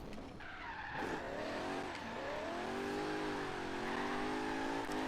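A 1972 Mercedes 300SEL with a highly torquey engine drifts through a Byron Bay section in a racing video game, its tires squealing in a long, loud, continuous wail that rises and bends in pitch over a steady engine drone, with no talk.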